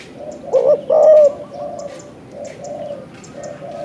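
A spotted dove coos in repeated low phrases, close and clear, with a short pause between each soft call. Faint forest background sits underneath.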